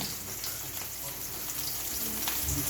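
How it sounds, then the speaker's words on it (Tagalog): Dried fish (tuyo) fries in a pan, a steady faint crackling sizzle throughout with no talk. "uuna natin ipiprito ang ating masarap na tuyo"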